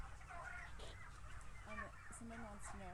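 Turkeys in a farm barn housing about 8,000 birds gobble and cluck in a busy, overlapping chorus, fairly faint, while a person talks nearby.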